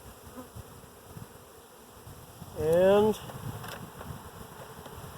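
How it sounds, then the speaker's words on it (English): A close buzzing of honeybees fanning their wings at a newly caught swarm, one rising droning hum swelling for a moment over a quieter background hum; a single word is spoken. "the bees are fanning"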